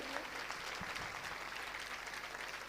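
Sustained, dense clapping from an audience welcoming a guest at a Hindu religious discourse in Indore, steady and fairly loud throughout the whole stretch.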